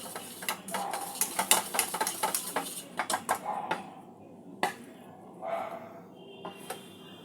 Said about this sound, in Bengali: যতক্ষণ না একটা স্মুথ টেক্সচার আসছে ততক্ষণ মাখনটা ফেটিয়ে যেতে হবে।